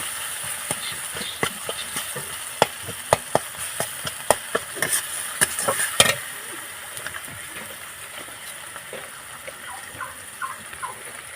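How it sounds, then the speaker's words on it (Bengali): Bengali Amudi fish curry with turmeric is stirred in a pot over a stove, producing close clicks and scrapes of a spoon over a gentle sizzle, busy at first and then settling into a quieter bubbling simmer. "ঠিক আছে একটু নাড়তে থাকি নাড়তে থাকি"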